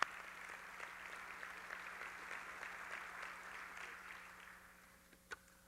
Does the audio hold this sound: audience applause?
yes